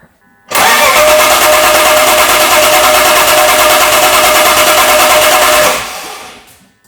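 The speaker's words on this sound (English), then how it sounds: "I'm gonna crank the engine and we will see where we are." A Nissan 350Z drift car engine cranks with a loud, steady, rapid chugging for about five seconds, then winds down and stops.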